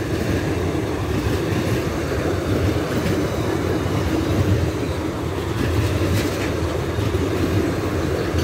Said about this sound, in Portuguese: Trem bastante comprido e olha que vagões carregados